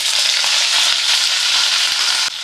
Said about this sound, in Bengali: এবার এর মধ্যে আমি আলু আর বেগুন দেবো